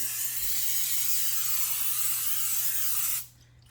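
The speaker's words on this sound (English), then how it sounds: "spray on the other side" Oil spray hisses steadily onto breaded fresh mozzarella for about three seconds, a close, continuous aerosol rush that cuts off abruptly near the end.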